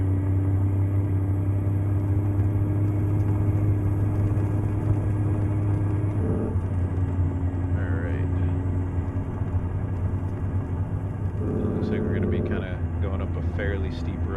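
Deep, steady diesel drone of a Hayes Clipper logging truck working on a steep road in American Truck Simulator, with the engine note shifting briefly as gears change and a constant low rumble throughout.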